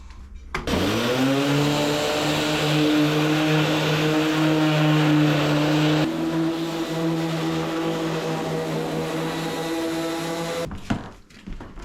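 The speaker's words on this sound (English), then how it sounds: "Make sure your vacuum's on because it will suck up pretty much all the dust." A vacuum cleaner sucking up wood dust whirs up and runs with a steady, loud droning hum, then cuts off near the end.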